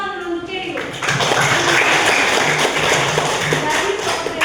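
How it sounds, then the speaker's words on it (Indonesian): Students in a classroom break into applause for their teacher after a short moment of voice, a dense, loud, steady patter of many hands clapping that fills the rest of the stretch. "tepuk tangan dulu untuk Ibu"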